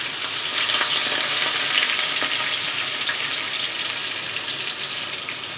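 Rice fries and is stirred in hot oil for biryani, a steady bright sizzle with scraping stir strokes running continuously, close and fairly loud.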